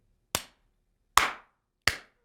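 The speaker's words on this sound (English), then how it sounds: "He just starts clapping" A man claps his hands three times in a quiet room. The claps are sharp, close and separated by uneven pauses of roughly a second.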